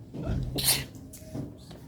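A single sharp human sneeze erupts indoors, near and fairly loud, preceded by a quick intake of breath and followed by quieter sounds.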